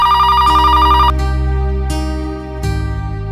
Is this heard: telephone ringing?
yes